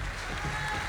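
Audience applause welcoming the father and brother of Captain Manoj Kumar Pandey PVC onto a stage at a motivational event, a steady dense wash of clapping from a large crowd throughout.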